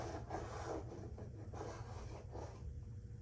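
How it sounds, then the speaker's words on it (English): A handheld stud finder slides across an interior wall while the TV mount location is found, making a soft, continuous rasping rub in several short passes, close and quiet with no talking. "I'm gonna use this stud buddy to find the studs."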